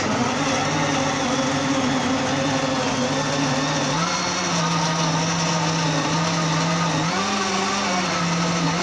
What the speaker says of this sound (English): And I'm about to blend my juice.